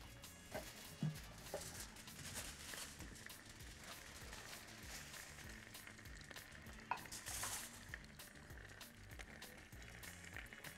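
Garlic and beef fry together in a pan for a steak tray dish, giving a low, steady sizzle broken by scraping and stirring clatter, faint and close, with no talking.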